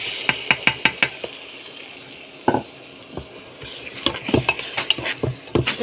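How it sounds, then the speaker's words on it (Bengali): Rice, lentils and green chillies are fried in oil for khichuri in a pan, making a series of sharp spoon-against-pan taps and scrapes in quick clusters over a soft, low sizzle. "সুন্দর করে তেলে ভেজে নিব"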